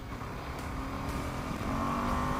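A KTM 390 Adventure motorcycle accelerates hard from close by, its engine note building steadily and getting louder toward the end of the short run, with wind noise over a rising tone.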